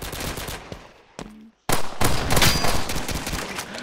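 Rapid bursts of pistol fire in a mobile shooter game, several sharp shots in quick succession with a brief silent gap before a louder, dense volley.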